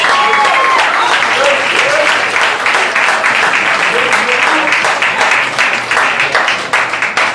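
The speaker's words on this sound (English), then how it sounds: "Give this brother a round of applause, man." An audience at an awards ball in Dallas gives loud, dense, sustained applause with whistles and cheering voices mixed in, the clapping continuing strongly throughout.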